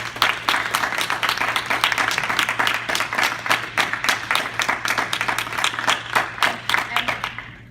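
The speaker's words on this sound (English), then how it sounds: "would you stand up so we could give you an applause?" An audience at a Toastmasters club meeting applauds its officers as they stand, a dense, steady wash of many hands clapping that carries on at an even level from start to finish.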